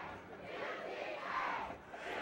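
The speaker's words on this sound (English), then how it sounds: "Good crowd on hand on the whole field here, surrounded by a bunch of people" Crowd noise at a 2009 high school football game between Tri Valley and Upper Dauphin Area, a fairly distant, steady murmur of spectators surrounding the field with voices mixed in.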